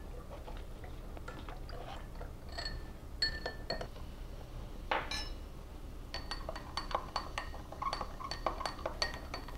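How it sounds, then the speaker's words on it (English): Spoons stirring baking soda and cranberry juice in drinking glasses, giving a run of bright, close glass clinks and taps, scattered at first and then quicker and denser toward the end, with no talk. "We're going to be mixing it into the two end glasses."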